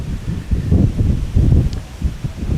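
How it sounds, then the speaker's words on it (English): Wind gusts rising from behind at an outdoor airport spotting spot, heard as a low, uneven rumble buffeting the microphone in swelling waves with no voices. "Now it feels like the wind is picking up."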